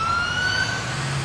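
A fire engine siren from the video game LCPD:FR on a Las Vegas-themed Clark County fire truck, a steady sustained wail, loud and close and heard alone.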